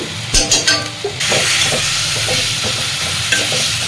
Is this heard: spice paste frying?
yes